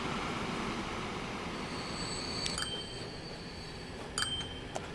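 A train in the video game Transport Fever 2 runs as a steady low rumble, with metallic wheel squeals and clinks near the end and no talk.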